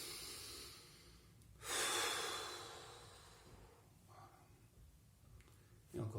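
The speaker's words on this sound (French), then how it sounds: "On inspire et encore." A deep breath drawn in during a guided relaxation exercise: a loud, broad airy inhale swells after a quiet stretch, followed by fainter breaths and a second breath starting at the end.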